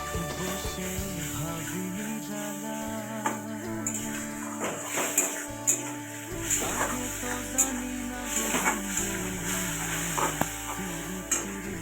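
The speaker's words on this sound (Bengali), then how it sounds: "একটু জল দিয়ে এটাকে ভালো করে কষাতে হবে, খুব ভালো করে কষাতে হবে" Eggplant curry being sautéed and stirred in a pan with a little water and oil, a steady close sizzle with scraping spoon strokes and soft clatters against the pot, background music running underneath throughout.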